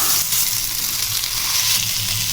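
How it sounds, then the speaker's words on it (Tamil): Sardines sizzle and fry in oil on a stone griddle, a steady close crackling hiss with faint bubbling underneath, continuous and alone. "மீதி இருக்க மீனையும் வந்து இதே மாதிரி கல்லில் போட்டு எடுத்துக்கலாம்"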